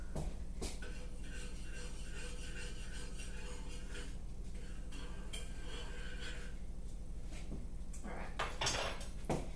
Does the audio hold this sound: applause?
no